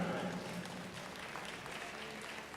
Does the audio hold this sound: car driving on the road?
no